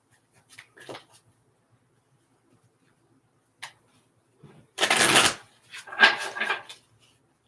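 Tarot cards being riffled and shuffled in a few brisk bursts, with softer handling sounds between them in a quiet room.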